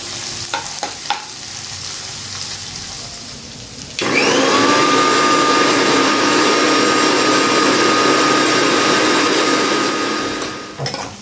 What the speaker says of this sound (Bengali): চলো ততক্ষণ আমরা পোস্তটা একটু পেস্ট করে নিই